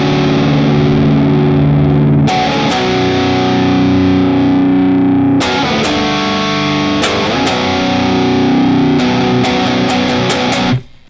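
A distorted electric guitar plays the intro of a song, sustained ringing chords with sharp strummed accents recurring every few seconds, loud and close with no talking.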